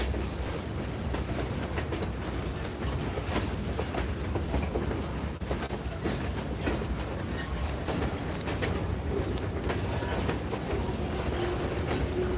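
Norfolk Southern freight train 289 rolls past westbound out of Knoxville, its cars giving a continuous loud rumble with rhythmic clickety-clack of the wheels on the rails for the whole stretch, heard without talk.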